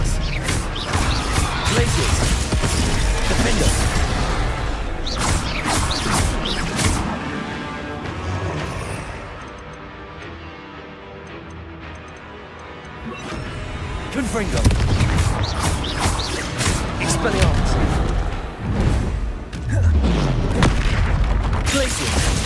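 Spell effects from the Hogwarts Legacy video game, including Incendio and Expelliarmus, hit as loud booming crashes and impacts in dense bursts, easing to a quieter lull midway before erupting again.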